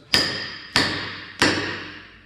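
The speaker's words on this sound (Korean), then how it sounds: "이렇게 새망치로 치면" A steel hammer strikes a holdfast clamp three times at an even pace, each sharp, close blow ringing out with a bright metallic decay.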